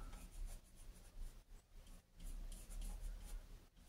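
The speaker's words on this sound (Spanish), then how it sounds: "Sería hay que hacer una marca con un lápiz, un marcador." A pencil or marker scratches across PVC pipe as a mark is made before cutting, producing a faint, close rubbing and scraping that comes in short strokes.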